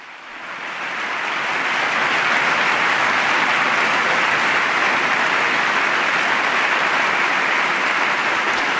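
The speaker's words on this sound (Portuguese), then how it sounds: "E novamente todos de pé aplaudem Papa Francisco" Standing ovation for Pope Francis in the US Congress in 2015: dense, steady applause from a large crowd swells in over the first two seconds and then holds loud and even, with no speech over it.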